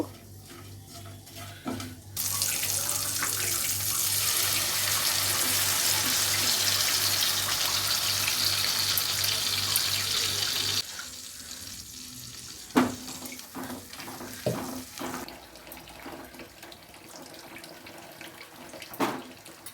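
Water poured into a pan of cooking spice paste for paneer masala, a loud steady rush of liquid and sizzle lasting several seconds, then stopping into quieter clinks and scrapes of stirring.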